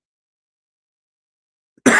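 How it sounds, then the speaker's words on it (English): A man gives a short, sharp cough right at the end after nearly two seconds of silence, close and fairly loud. "I got a little bit of cough left."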